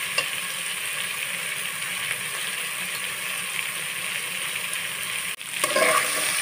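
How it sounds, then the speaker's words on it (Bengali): Potato pieces frying in oil in a pan for a fish curry make a steady, dense sizzle, close and fairly loud, with a brief clatter near the end as the pan is stirred. "আলু দিয়ে আমি একটু সময় নিয়ে লাল লাল করে ভেজে নেব।"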